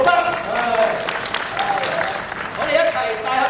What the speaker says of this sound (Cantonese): 再俾掌聲，陸生